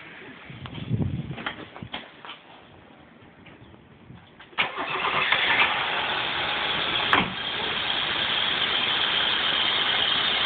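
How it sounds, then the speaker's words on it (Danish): A car engine cranks and fires up after a few quiet clicks and handling sounds, then settles into a steady, fairly loud idle that runs for several seconds, heard close by with no talking. "prøver at gå ind og starte bilen"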